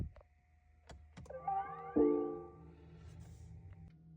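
A BMW i8 hybrid sports car cranks and catches with a sharp burst, then settles into a low, steady idle, heard fairly close with some whirring and electronic tones.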